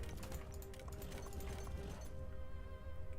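Horse hooves clip-clop steadily in Total War: Three Kingdoms, a busy rhythmic patter of a mounted unit moving over ground, mixed into dense in-game battle ambience with no one talking.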